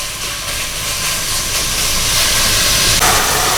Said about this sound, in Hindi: इसको हमने अच्छी तरह मिक्स करना है just 2 to 3 minutes until its color changes.